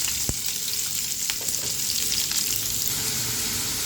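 A large onion, finely chopped, sizzles steadily in hot oil with coconut pieces for a beef fry, a continuous close crackle with a few sharp pops and scrapes of stirring.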